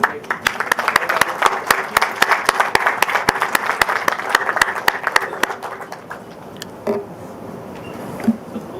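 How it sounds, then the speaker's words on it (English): A crowd at a conference panel during an auto show claps for several seconds, with dense applause and distinct sharp claps up close that thin out and fade into quieter room sound with scattered late claps. "For that, we need to give a big round of applause for Sanjay."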